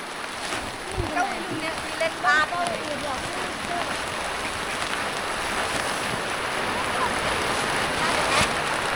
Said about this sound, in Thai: ฝนลงมาแล้ว